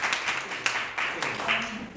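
A small audience at a panel talk applauds briefly, scattered hand claps mixed with a voice speaking over them.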